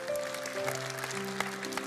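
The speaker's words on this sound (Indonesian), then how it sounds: "kita berikan tepuk tangan untuk Tuhan." Church congregation applauding together during a worship service, a steady wash of clapping alongside sustained organ or keyboard tones, moderately loud and continuous.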